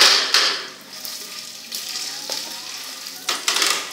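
Popcorn kernels heat and sizzle in a pan with oil, a steady frying crackle with a few sharper clicks and stirring scrapes, close and alone.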